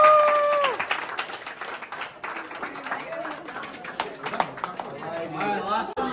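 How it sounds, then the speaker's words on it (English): A small crowd claps and cheers briefly after judging at a cupcake baking competition, the uneven applause mixed with chatter and voices. "let's give us a round of applause."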